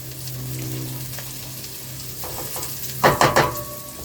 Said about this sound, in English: let me give those onions one more stir